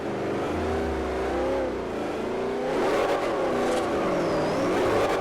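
A fully built Ford GT500 in Forza Horizon revs its engine for a launch, the pitch rising and falling as the throttle is held and blipped, then climbing harder toward the end with no talking.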